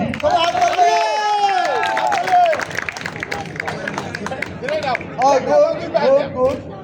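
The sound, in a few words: people clapping at a banana-tree climbing contest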